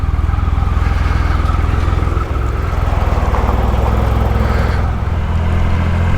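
A motorcycle with a 2.3 litre engine idles or cruises close by with a loud, steady low rumble and throb. The engine note holds constant throughout, with no speech.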